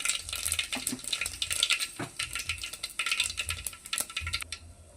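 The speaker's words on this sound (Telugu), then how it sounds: "ఇప్పుడు ఇందులో ఆవాలు వేసేసుకుందామండి అలాగే కొంచెం జీలకర్ర కూడా వేసేసుకుందాం" Mustard seeds and cumin sizzling in hot oil for sambar, a bright crackling spatter with scattered popping seeds and occasional stirring scrapes, fairly quiet and close.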